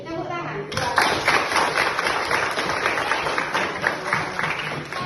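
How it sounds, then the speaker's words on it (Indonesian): Classroom of children clapping together at a teacher's prompt during an innovative teacher competition lesson; loud, close, rapid clapping bursts begin abruptly after a moment of voices and continue with rhythmic pulses, chatter mixed in. "Oke, tepuk tangan."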